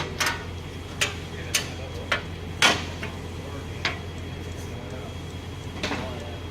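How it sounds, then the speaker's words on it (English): A machine door is opened and a guard taken off, making a scattered series of sharp metallic clicks and clunks over a steady low machine hum. "We're just gonna open the door up here, take a guard off so you can see inside here."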